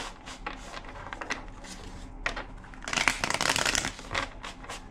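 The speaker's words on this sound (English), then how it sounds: "Two more shuffles." Tarot cards being shuffled, soft riffling and flicking sounds with a louder, denser shuffle burst partway through, close by.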